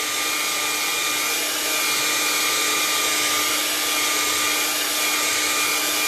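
Hair dryer blowing continuously, a loud, steady, close whooshing roar with a constant motor whine that never changes for several seconds.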